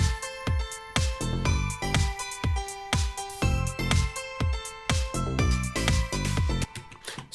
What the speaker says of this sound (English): So I've got this rising bell here.